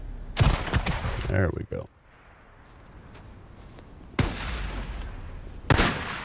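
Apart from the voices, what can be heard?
shotgun firing in the video game Days Gone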